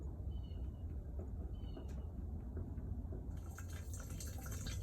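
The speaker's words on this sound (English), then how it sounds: "Now that's about how the fuel should be draining out" Fuel drains from a cheap aftermarket Harley carburetor in a steady, faint liquid trickle and drip, with a brighter splashing patter joining in toward the end; no one speaks.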